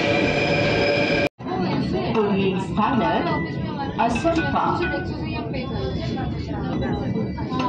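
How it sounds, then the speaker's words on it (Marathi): A metro train rides on the Mumbai line, giving a steady loud rumble of the carriage with rail noise and a brief dropout near the start, while people talk over it throughout. "आता मेट्रो पकडतो आम्ही."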